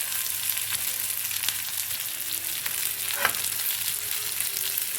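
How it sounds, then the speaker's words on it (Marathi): Pomfret fish shallow frying in a little oil on a tawa, a continuous even crackling sizzle at moderate level with no talk. "तर हे मस्त फ्राय व्हायला सुरुवात झालेली आहे,"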